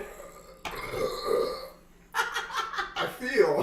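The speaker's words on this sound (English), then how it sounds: "I did the burping bit so much" A man lets out a series of loud, drawn-out burps close to the microphone, the belches broken by laughter and breathy chuckles.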